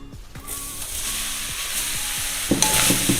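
Grated coconut roasts in a pan for a Diwali sweet. It gives a steady, dense sizzle with scraping stir strokes that repeat through the clip, and the sizzle swells louder near the end, with no talking.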